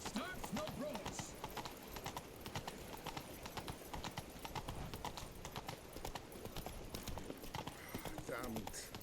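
Roach, the horse in The Witcher 3, trotting with steady, quick clip-clop hoofbeats throughout, moderately close, with a brief snort or whinny and voices talking over the hooves.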